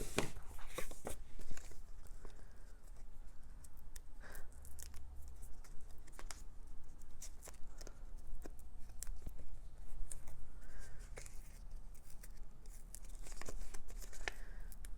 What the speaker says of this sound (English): So I'm just going to kind of cut the edges to make them more of a size of a dimensional.